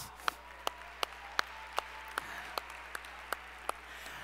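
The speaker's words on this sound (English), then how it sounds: "Give them a round of applause." Slow, evenly spaced hand claps ring out one at a time, about eleven over a steady low hum, at an international network-marketing convention in Vegas welcoming first-time attendees.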